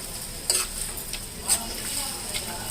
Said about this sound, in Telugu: ఎండుమిరపకాయలు గలగలంటున్నాయి